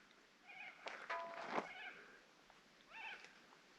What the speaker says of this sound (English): Don't know if you can hear the cockatoos